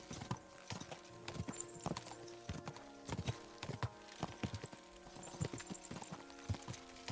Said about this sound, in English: this sound of just the tromping horse without the background music